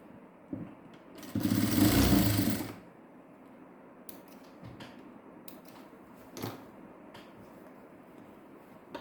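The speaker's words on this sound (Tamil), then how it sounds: "இந்த பக்கமாக தையலை கொண்டு வந்து இதில் ஜாயின் பண்ணிக்கிறேன்" Sewing machine stitching a seam on a diamond-neck garment design, a dense mechanical whir lasting about a second and a half, then quieter handling and faint clicks.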